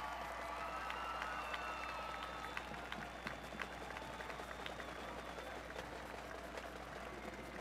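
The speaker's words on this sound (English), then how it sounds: "let's give a round of applause to all of our servicemen and women serving in our armed" An outdoor crowd at a Friday event in Weslaco applauds for servicemen and women, faint, distant scattered clapping over a steady hum with some cheering and murmured voices.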